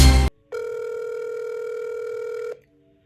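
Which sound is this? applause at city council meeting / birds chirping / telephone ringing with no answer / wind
telephone ringing with no answer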